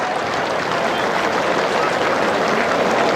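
A test-match cricket crowd at England v New Zealand claps steadily as the players leave the field, a dense, even wash of applause with no break.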